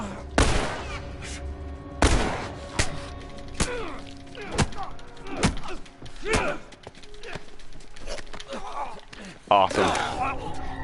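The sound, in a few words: gunshots in a video game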